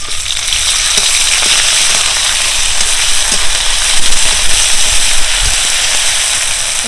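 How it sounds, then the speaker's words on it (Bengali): Marinated spices for hilsa khichuri hit hot oil in a pan and sizzle steadily, a dense continuous frying hiss with small pops, close and loud throughout. "এবার মাছের ভিতরে যে মশলাগুলো মাখিয়েছিলাম অর্ধেক অর্ধেক রেখেছি, ওইগুলো তেলের ভিতরে দিয়ে দেব।"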